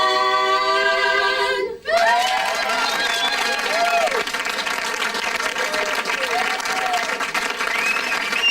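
A crowd at a radio station appearance breaks into steady applause and cheering right after a song ends, the clapping sustained and fairly close, with voices calling out over it.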